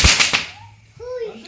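Diwali firecrackers go off in a few sharp, loud cracks close by at the start, followed by quieter crackle and a voice afterward.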